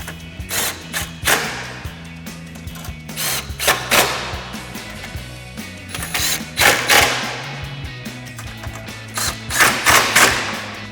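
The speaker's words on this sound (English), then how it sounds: "we're going to tighten those down with our 10mm socket." A ratchet with a 10mm socket tightens fog light bolts on a 2019-2024 RAM 2500, giving close, repeated clicking strokes in uneven bursts with a few dull knocks between.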